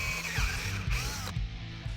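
A power drill steps up a couple of bit sizes to widen a pilot hole in a body panel of a classic Chevelle, cutting in short grinding bursts with a ratcheting, mechanical chatter close by.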